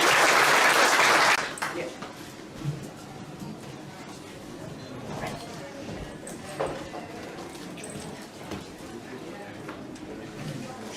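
An audience at a book launch claps loudly for Tom Carroll in a dense burst that fades after about a second and a half, leaving quieter room noise with scattered voices and small knocks.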